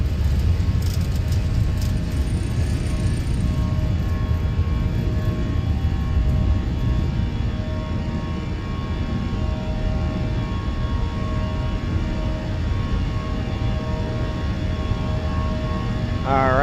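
A JetBlue Airbus A320 rolls down the runway and takes off from Richmond in the Fenix A320 flight simulator, a loud continuous jet engine roar with a rising whine near the end.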